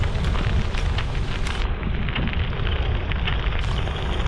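Heavy rain pouring down during a rainy summer afternoon ride, a loud dense steady hiss close by with no voices.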